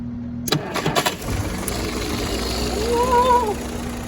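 A worn starter on a 1965 Jeep CJ5 engages with a few sharp clunks and cranks briefly, followed by a steady rumbling engine-like drone and a faint whine, with no speech.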